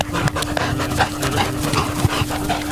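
A dog at a dog park pants and whimpers close by in a steady, busy rhythm, with a faint background hum and no talking.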